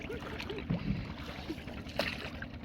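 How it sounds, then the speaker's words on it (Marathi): Fishing boat under way at speed on twin Yamaha engines off the Konkan coast: a continuous low rumble mixed with wind and water rush, with brief faint voice-like sounds. "Double engine यामाची."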